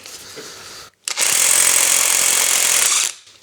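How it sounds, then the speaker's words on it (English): Lidl Parkside impact wrench rated for 400 newton meters hammers loose a nut tightened to 210. It gives a single loud, continuous rattling burst of about two seconds, with quiet background before and after and a short gap of silence just before it. "now I tighten it down with the impact wrench"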